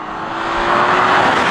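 A BMW XM, a 750-horsepower hybrid SUV, sweeps past outdoors at moderate speed, its engine and tyre roar swelling loudly and steadily over a second and a half as it draws near, with no talk.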